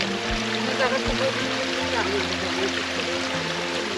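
A small waterfall on a mountain hiking trail rushes and trickles steadily nearby, a continuous wash of flowing water with some low bumps and faint voices in the background.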